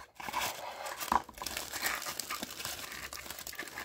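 A plastic-wrapped parts pack for a Hachette Batmobile Tumbler model is torn open, with close, continuous crinkling and a brief sharper rip partway through.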